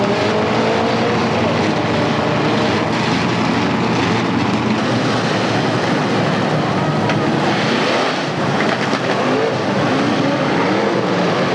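Dirt track race cars at Atomic Speedway roar together in a dense, continuous engine din, loud and close, with shifting revs as the pack sweeps past and no break in the noise.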